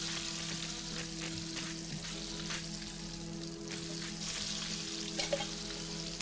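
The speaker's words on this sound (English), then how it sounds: "Little fishes are frying up." Small tinned fish fry in a pan with a steady sizzle and scattered crackling pops under a constant low hum, fairly close and unbroken.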